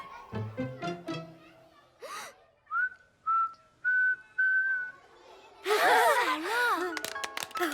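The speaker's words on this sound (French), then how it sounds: "Tu as appris à siffler." Several short, steady whistled notes in a row, each a clear sustained tone, followed by excited voices and laughter.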